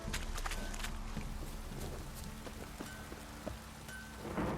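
Steady rain pours down in The Witcher 3 game world, a dense hiss of drops on surfaces with scattered louder splashes and faint hoof or footstep taps beneath.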